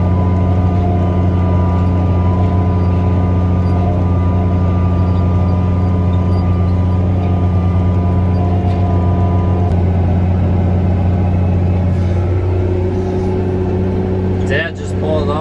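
A tractor engine drones steadily while chisel plowing soybean stubble, a loud, constant low rumble with firm harmonic tones running unbroken, plus a few faint clicks near the end.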